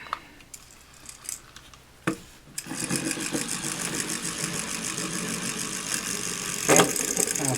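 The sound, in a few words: Non-Stop Top spinning gyroscope toy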